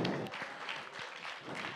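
An audience at a Spanish-language rap battle applauds a rapper, a brief dense wash of clapping and crowd noise that fades slightly and then swells again.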